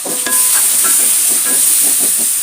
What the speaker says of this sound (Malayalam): ആ തക്കാളി ഒന്ന് വേവുന്നത് വരെ വാട്ടിയെടുക്കാം